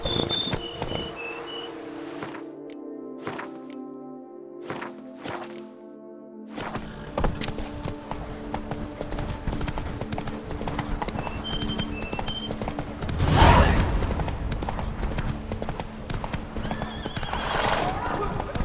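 A horse in a video game gallops with steady, rhythmic hoof clip-clops and lets out a sharp whinny partway through, over background music, insect chirps and some voices.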